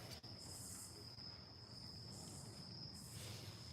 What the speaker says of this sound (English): Them crickets and forest sounds relaxing and shit.